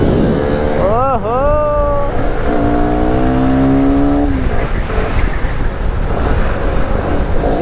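A scooter and a Yamaha R15 motorcycle race on the road, engines revving and climbing in pitch loudly and close amid strong wind rush, with a person talking over them.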